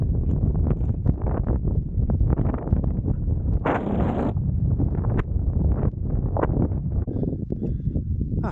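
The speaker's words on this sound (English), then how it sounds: "It's suddenly got a bit windy up there" Strong wind on the summit of Green Crag, a Lake District fell, buffets the microphone continuously, a low rumbling roar with gusty surges and rustling bursts throughout, no voices.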